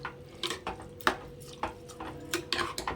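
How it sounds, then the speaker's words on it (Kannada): Soaked rice and vegetables are stirred in a pot for vegetable pulao, a spoon scraping and clinking against the metal in irregular faint taps and scrapes, close and alone with no talk. "ಈಗ ಈ ಅಕ್ಕಿನ ಈ ತರಕಾರಿ ಜೊತೆ ನೀಟಾಗಿ ಮಿಕ್ಸ್ ಮಾಡಿ"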